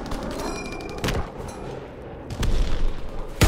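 Primary battery artillery in Call of Duty: WWII, with several heavy booming shots at irregular intervals over rumbling battlefield ambience, the final blast loudest and closest.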